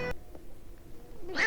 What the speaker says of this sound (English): Oh, the freaking cat.